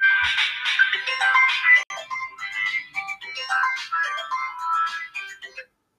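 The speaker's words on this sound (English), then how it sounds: "excuse me, let me get a phone call." Electronic phone ringtone chiming for an incoming call during an online chess lesson, a melodic repeating tune played close and clear, alone with no talk, stopping near the end.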